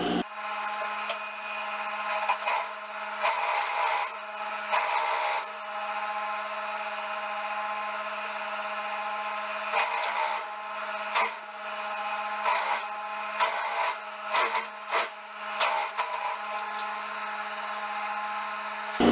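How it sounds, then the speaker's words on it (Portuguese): Sewing machine running a stitch along the folded 3 cm hem of elastic shorts, over an overlocked edge, with a steady mechanical whir in repeated bursts separated by brief pauses, close and fairly quiet. "passar a costura aqui em cima do overlock"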